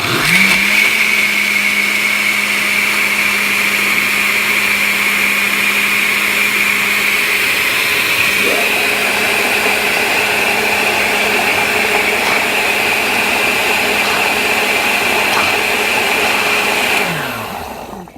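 Countertop blender running its frozen drink setting on watermelon, berries and water, a loud sustained motor whine that shifts pitch partway through as the contents churn, then winds down at the end.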